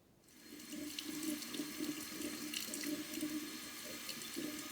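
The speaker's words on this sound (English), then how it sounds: "wash the brine off in the sink, rinsing it all off" Cold water runs from a sink tap to rinse brine off salmon, a steady, close gushing stream that begins abruptly and continues evenly, with no voices.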